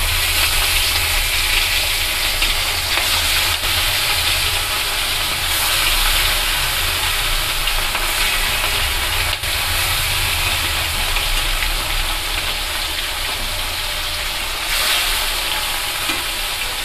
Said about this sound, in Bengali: আমি এবার কড়াটাকে গরম বসিয়ে দিয়েছি মাছটাকে ভাজার জন্য